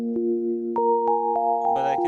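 A synthesized melody in a major scale: clear tonal notes step upward with soft attacks, each sustained into the next, ending in a brighter, busier chord, loud and alone.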